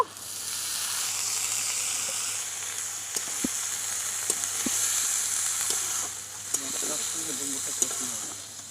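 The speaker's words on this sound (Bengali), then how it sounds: "মশলা ডুম্বুর একসঙ্গে ভালো করে কষে নেব" Figs cooked with ground cumin and spices in mutton fat in a pan, with nearby hissing sizzle and a few spoon knocks and scrapes as they are stirred, and faint voice in the background.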